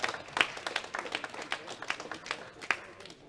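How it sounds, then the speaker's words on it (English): Applause from the audience at a world classic powerlifting championship, greeting the junior men's bench press medalists: scattered, uneven clapping with a few sharp claps standing out, moderately distant in a large hall. "a big round of applause for all of our medals in the bench press"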